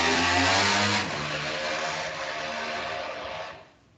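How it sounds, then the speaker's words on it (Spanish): A motorcycle passing by outside, its engine drone loud at first, then easing off and fading away toward the end. "Ya pasó la motocicleta."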